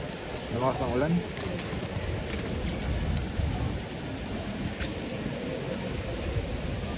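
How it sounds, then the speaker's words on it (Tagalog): Steady heavy rain hisses and patters over a queue in Vatican City, with some voices talking underneath and a brief low rumble. "Lakas ang ulan."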